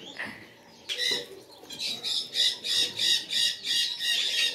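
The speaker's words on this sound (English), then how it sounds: "It's a flamingo, my favorite bird." A flamingo at a resort gives a run of loud, nasal squawks after a brief rustle, repeating in an even rhythm of about eight calls, close and clear.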